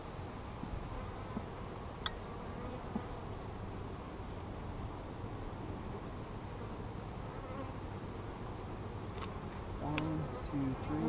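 Dense, steady hum of honeybees swarming around an open frame during a first-season inspection of a new hive, a continuous close drone filling the whole stretch with no talking.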